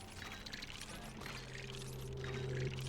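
Water pours steadily into a drinking vessel up close for about three seconds, the stream gurgling and the tone rising slightly as it fills, with no talking.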